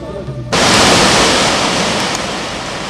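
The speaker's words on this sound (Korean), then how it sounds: "길이 82m, 물속 깊이가 13m나 되는 구령폭포의 장엄리는 금강산 최고의 절경을 자랑하고 있다" Guryong Falls on Mount Kumgang, an 82-metre cascade dropping into a deep plunge pool, bursts in as a loud, dense roar of falling water. After a faint moment at the start it holds steady and close.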